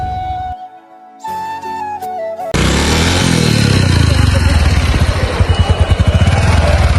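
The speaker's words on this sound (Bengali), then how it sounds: "গাইস আমি হচ্ছে বাইক চালাচ্ছি" A motorcycle ridden on an outing sounds loud and close from about midway on, its engine droning steadily with pulsing rumble and road noise after a quieter start.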